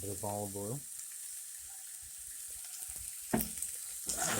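Broccoli sautéing in olive oil in a warm pan makes a soft, steady sizzle with light stirring clicks, close and quiet, after a brief voiced sound at the start.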